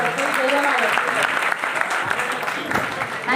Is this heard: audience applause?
yes